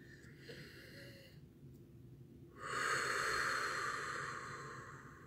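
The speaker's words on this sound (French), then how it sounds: "emplissez vos poumons au maximum et videz-les lentement." A deep breath drawn in and slowly let out during a guided meditation, a soft, close, steady airy rush that swells after a quiet stretch and then gently tapers, with no talking.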